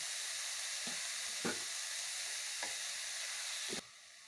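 Chopped spinach leaves tossed in a hot pan, a soft continuous sizzle with a few scraping stirs spaced across it, cut off abruptly near the end.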